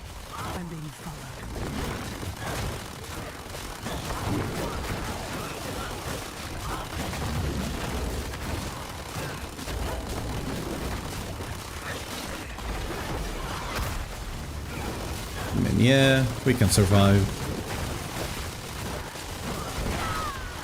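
Diablo 4 gameplay on a Season 14 test server with a Paladin, where a loud explosive burst erupts near the end over constant battle noise while someone talks throughout.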